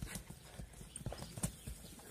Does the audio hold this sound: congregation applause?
no